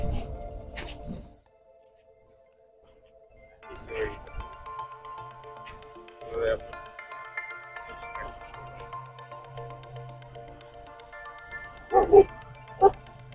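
A dog at a water intake station beside a sand quarry gives several scattered barks and yips, some sharp and close, amid people talking and quiet outdoor background.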